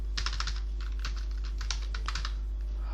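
VBA code being typed on a computer keyboard, a quick irregular run of clicking keystrokes in short bursts, close and clear over a steady low hum, with no talking.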